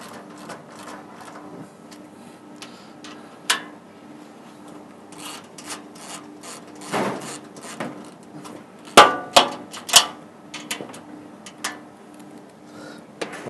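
Metal parts of a counter are assembled as 6mm bolts are tightened, giving scattered clicks and taps that build to several sharp metallic clangs near the end, in a quiet room.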